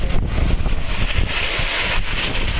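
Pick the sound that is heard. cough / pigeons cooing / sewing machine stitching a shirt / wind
wind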